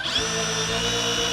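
A power drill drives screws into wood in a steady, loud whine that holds level through the whole stretch, with no voices.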